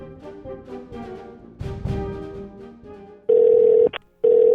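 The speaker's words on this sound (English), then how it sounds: "the phone lines here at the DLS College Consulting Office are ringing off the hook" Telephone ringing in an office, a piercing steady electronic tone that sounds in two loud bursts separated by a brief gap, preceded by softer musical tones, with no talking.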